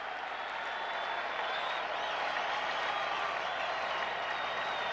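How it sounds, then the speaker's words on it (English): A large baseball stadium crowd at a 1979 World Series Game 6 between the Pirates and Orioles roars and applauds continuously, a dense, distant wash of cheering sustained throughout. "the crowd is roaring"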